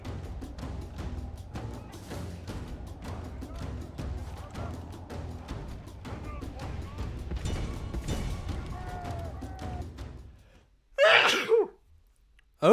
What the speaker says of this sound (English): A little bit of a sneeze there.